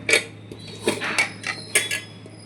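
Boiled chickpeas are tipped from a pot into a bowl, giving a handful of light metallic clinks and scrapes of a serving utensil against cookware spaced across a couple of seconds.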